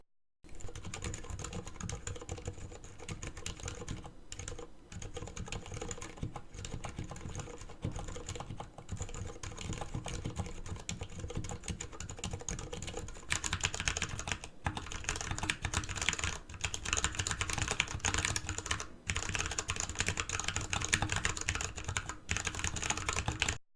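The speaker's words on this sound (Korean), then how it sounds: "이 키보드는 조용한 저소음 적축 스위치로 바꿔주면 회사에서도 사용할 수 있겠죠?" Continuous fast typing on a 65% mini-layout Massdrop ALT keyboard fitted with silent red linear switches, soft muted clacks in a dense steady stream, close and fairly quiet, no talking.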